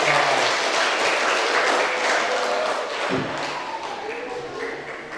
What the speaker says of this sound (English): big applause for